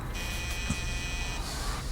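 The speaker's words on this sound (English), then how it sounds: "started hearing the buzzer to the front door go off." A front door buzzer sounds one continuous electric buzz lasting about a second, close and fairly loud over a low room hum, with no talk.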